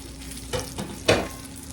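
A beef roast browns in a hot pan with a soft, steady sizzle and two brief louder bursts of spitting fat, close by and with no voices.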